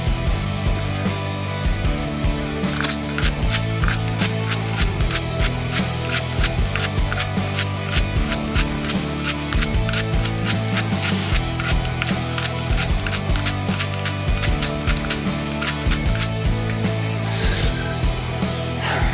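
5/16 beadlock wheel bolts are cinched down by hand in a back-and-forth pattern, giving a quick run of crisp, repeated ratcheting clicks in short bursts under a steady low mechanical hum, close by and without talk.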